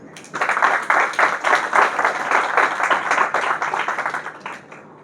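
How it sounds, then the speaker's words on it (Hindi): A small crowd claps together for a few seconds, brisk and fairly close, with no talking over it. "तालियां बजाएंगे"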